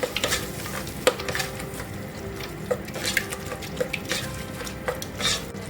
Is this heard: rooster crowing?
no